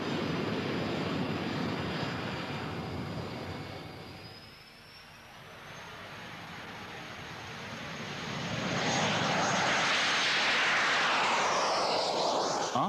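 A Jet Provost jet trainer in flight gives a loud, continuous engine roar with a steady high whine. The roar dips briefly midway, then swells back to full strength.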